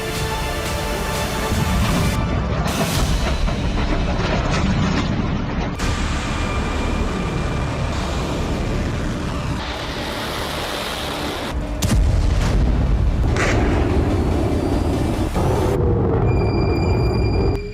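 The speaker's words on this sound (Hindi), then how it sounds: "रॉकेट से धमाका हुआ" Rocket strikes in Ramallah, West Bank, roar as loud, continuous blasts and rumbling booms filling the whole stretch, with sharp cuts between segments of chaotic, dense noise.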